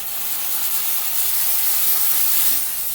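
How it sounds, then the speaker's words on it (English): A Chief Steamer 125 PSI steam cleaner blasts steam onto a salt-covered car hood, producing a loud, continuous broadband hiss held steadily throughout, close up with no speech. "So to start, we can just start the steam."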